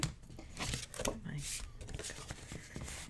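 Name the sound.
pulling up adhesive tape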